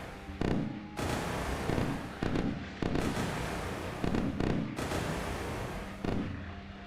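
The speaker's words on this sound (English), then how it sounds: "Alright, the incoming fire has begun already." Incoming gunfire in the naval warfare game Sea Power, with loud, sharp bursts crackling at irregular intervals over a steady roar of battle, each salvo standing out against the background din.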